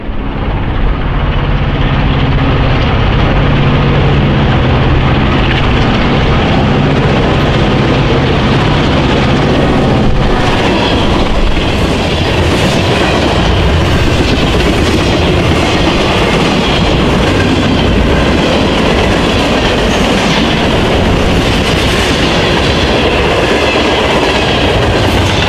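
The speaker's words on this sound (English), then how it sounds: "AF3 ran at track speed with an ex-Iowa Interstate SD38-2, number 804," Freight train led by an ex-Iowa Interstate SD38-2 diesel locomotive passing at track speed by an abandoned station on the Chicago South Shore line, a loud, sustained roar of engine and rolling wagons with steady wheel clatter for the full length.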